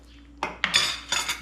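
A utensil scrapes and clanks against a cooking pot in short bursts of metallic stirring while fabric is worked in natural dye, close and fairly loud with no talking.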